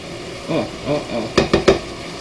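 Wilted greens are stirred in a pan for a steak scramble, giving a soft sizzle with a few quick scraping strokes and three sharp utensil clacks near the end, close by. A voice is heard briefly.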